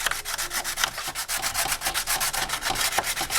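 A motorcycle fairing is scuffed by hand sanding, giving a close, steady, rhythmic rasping of quick back-and-forth strokes with no talking.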